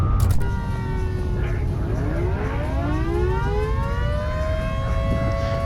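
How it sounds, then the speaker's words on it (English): An air raid siren in the game Volcanoids wails steadily and loudly throughout, its rising and falling overlapping tones sweeping over a constant rumbling backdrop with no talk. "And that air raid siren is..."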